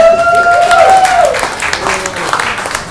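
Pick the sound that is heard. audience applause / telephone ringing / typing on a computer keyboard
audience applause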